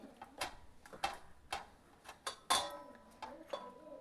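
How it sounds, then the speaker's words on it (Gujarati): Oiled dough loaded into a metal sev press for aloo bhujia, giving a series of soft metallic clicks and taps, some sharper clinks, spaced irregularly and fairly quiet. "હવે તેને આપણે સંચામાં નાખી દઈએ."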